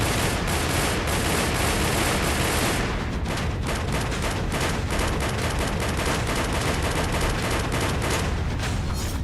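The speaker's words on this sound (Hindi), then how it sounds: "अफ्रीका के रेगिस्तान में अमेरिकी फौज बारूदी ताकत दिखा रही थी" Sustained volleys of gunfire from US military forces in a desert exercise in Africa, with dense overlapping shots and bursts, loud and continuous throughout.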